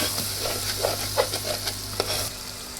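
Raw mango curry stirred in a pan, a steady soft sizzle with scattered scraping clicks of the spoon against the metal, close and continuous, no voices.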